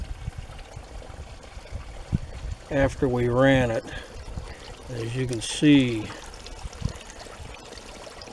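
Water pours and splashes steadily out of a 1999 Buick Park Avenue radiator during a flush, a continuous trickling stream running beneath a man's speech.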